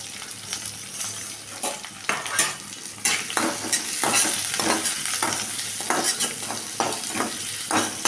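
Bitter gourd and sliced onions fry in a hot pan, a steady sizzle broken by repeated scraping stirs of a spoon against the metal, close and alone with no talk.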